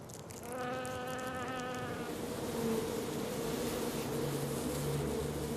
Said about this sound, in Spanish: Y las avispas están rodeadas de él.